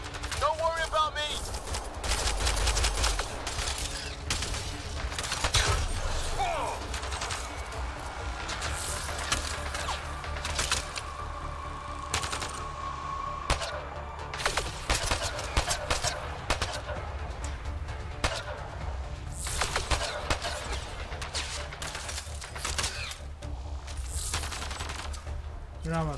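Rapid pistol and rifle gunfire in the video game Mass Effect Andromeda, set in Habitat 7's alien ruins, crackling in dense bursts over a constant battle din, with voices talking through the fight.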